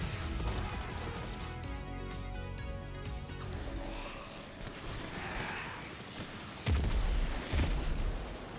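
Grenade blast in the game Destiny 2: Beyond Light, set against a busy layer of game music and effects, with two loud booming bursts in the second half.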